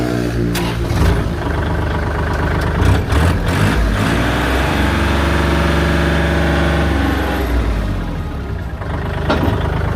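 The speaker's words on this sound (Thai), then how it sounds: "เดี๋ยวลองมาสตาร์ทเครื่องยนต์ดูนะครับ" A Kubota L4018 tractor diesel engine idles loudly and steadily nearby, a deep continuous chugging rumble with a slight rise in revs early on.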